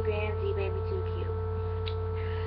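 A home computer runs behind a webcam recording, giving a steady low electrical hum with a faint whirring layer that stays constant and unchanging throughout.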